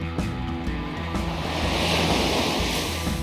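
Sea waves wash onto a sandy reef beach with an Okinawa-like feel, a full, close roar of surf with wind buffeting the microphone and no talking.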